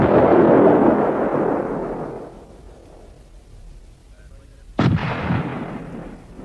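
A Bofors 90 mm low-pressure cannon on a Swedish IKV-91 light tank fires once with a sharp, loud boom. The blast rolls off into a long rumbling decay, following the tail of an earlier blast that fades out at the start.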